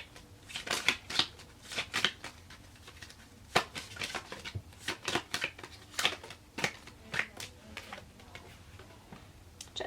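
Tarot cards being shuffled and handled in a series of close, crisp riffles and slaps with irregular rhythm, no talk over them.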